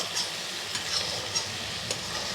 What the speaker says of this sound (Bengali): পোস্ত বাটা। এখন এটাকে একটু ভেজে নেবো ভালো করে।